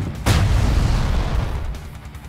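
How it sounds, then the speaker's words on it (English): An enemy stronghold is destroyed in the tabletop strategy game Tabletop Gods: one loud, sudden boom that rolls into a deep rumble and fades over about two seconds, with no voices. "You have destroyed an enemy stronghold."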